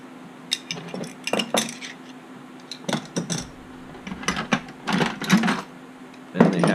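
Craftsman adjustable wrenches clink and clatter as they are picked up and set down, a series of sharp metallic knocks in irregular bursts over a quiet background.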